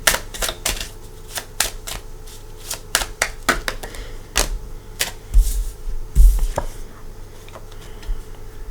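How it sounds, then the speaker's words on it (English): A deck of tarot cards is shuffled by hand up close, with crisp, irregular snaps and riffling taps in quick bursts and short pauses, and no voices. "let's go ahead and shuffle and bring out some cards"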